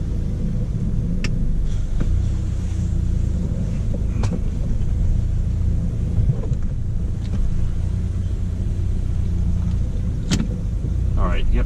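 Car fitted with a tuned DSG transmission and high-torque tune driving, a steady loud low engine and road rumble running throughout with wind buffeting and a few brief clicks, no voices.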